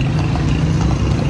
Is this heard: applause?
no